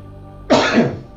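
One sharp, explosive sneeze bursts out close by after a brief quiet moment, then trails off.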